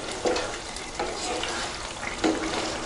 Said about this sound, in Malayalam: ഇനി ഒന്ന് നന്നായി ഇളക്കി